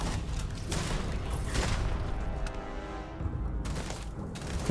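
Rapid gunfire in Starfield, a dense, continuous burst of shots with booming low rumble throughout, loud and close with no voices over it.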